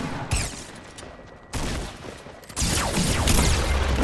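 Shooter video game battle: clusters of sharp gunshots and volleys erupt in three waves, each louder and denser than the last, with no speech.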